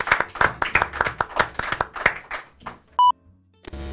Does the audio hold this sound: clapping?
yes